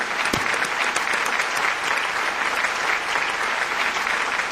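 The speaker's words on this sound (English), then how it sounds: "Can we please hear the applause for both these remarkable gentlemen?" Dense, sustained applause from an audience honoring two guests fills the space at a steady level, a continuous rush of many hands with no voices over it.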